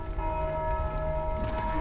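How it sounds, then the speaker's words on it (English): In the video game Dark Souls II, a bell rings with a sustained, resonant metallic tone that hangs steadily over a low rumble for the whole short moment, with no speech. "Oh, you're ringing the bell."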